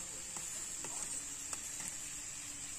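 A bean, potato and shrimp curry sautéing over low heat, giving a faint steady sizzle with a few soft stirring taps, fairly quiet throughout.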